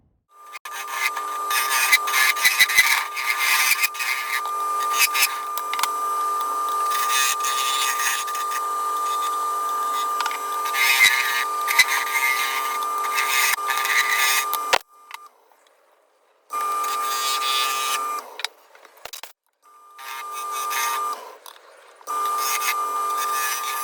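Steady scraping and rubbing of a gouge cleaning up and shaping a small deep wooden platter on a lathe, loud and continuous for about fifteen seconds, then broken into shorter bursts separated by brief pauses.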